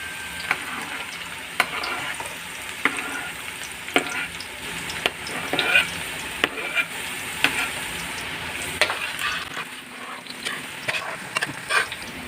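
Garlic frying in a pan gives a steady close sizzle, with frequent sharp clicks and scrapes of stirring throughout.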